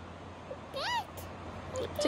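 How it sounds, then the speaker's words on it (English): A single cat meows twice with a rising, wavering cry, then a softer second call, close by over a quiet room hum. "It's a cat. Does it go meow?"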